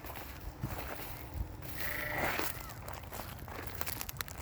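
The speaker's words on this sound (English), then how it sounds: "The sheep are kind of complaining right now" St. Croix sheep bleat and complain outdoors while back on bale grazing in a field, a few moderately distant calls mixed with rustling and footsteps.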